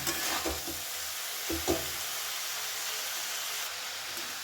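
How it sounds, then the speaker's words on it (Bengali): Chopped cabbage is stirred with spices in a hot pan, a soft steady sizzle with a few faint scrapes and clinks of the spoon early on, fairly quiet and close, with no voices. "বাঁধাকপির সাথে সমস্ত মশলাটা ভালো করে মিশিয়ে নেব"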